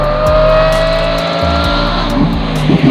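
A Lamborghini Revuelto's V12 engine revs loud and close, with rising and falling tones and a brief dip between revs.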